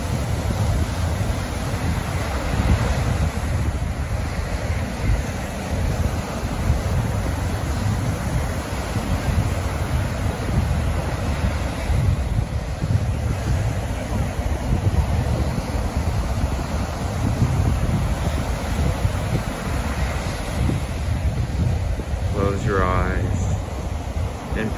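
Steady ocean surf washing onto a beach, a continuous broad roar of waves with wind noise across the microphone, loud and unbroken throughout, with a faint voice-like warble near the end.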